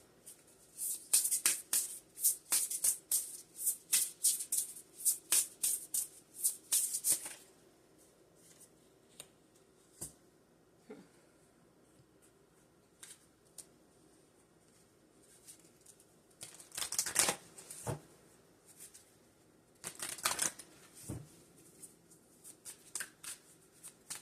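Tarot and oracle cards are shuffled in quick, crisp riffling bursts for several seconds, then a long quiet stretch broken by occasional card slaps and a few more shuffling flurries.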